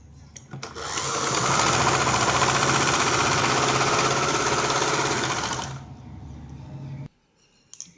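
Sewing machine stitching along the top of a kurti: a loud, steady mechanical whir for about five seconds that slows and stops, followed by quiet handling sounds.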